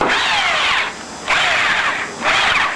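A power drill with a 3/8 inch chuck whines loudly in three sustained bursts, each spinning up and cutting off with brief pauses between.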